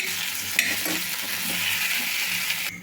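Tomato pieces frying with onion slices in a pan, giving a steady, fairly loud sizzle that runs throughout with a few small pops and a quick clink.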